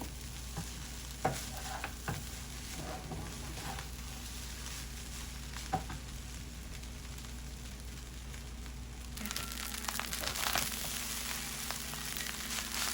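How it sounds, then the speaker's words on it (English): A spatula scrapes and stirs egg fried rice around a hot pan, with steady sizzling and occasional sharp clicks of utensil on metal, close up, the frying growing louder toward the end. "I use this spatula this way, so it helps me move the rice from the bottom."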